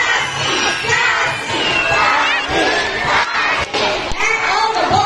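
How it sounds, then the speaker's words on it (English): A crowd of children cheering and shouting at a show at Manila Ocean Park, split into two cheering groups: loud, continuous excited voices rising and falling, with a few thumps and a short dip in volume near the end. "All the girls will cheer for Zaz."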